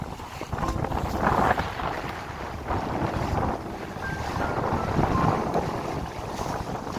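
A sailboat on a close reach, steered by a solar-powered autopilot, moves through steady wind buffeting the microphone, with rushing water and waves along the hull throughout and no voices.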